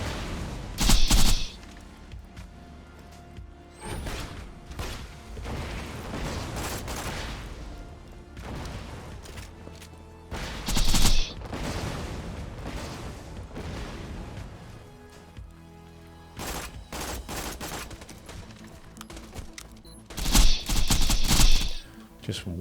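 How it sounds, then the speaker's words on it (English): Rockets streak through a Borderlands 2 firefight and burst in three loud, booming explosions, near the start, middle and end, over a steady rumble of gameplay effects. "Just wait for these rockets to go through"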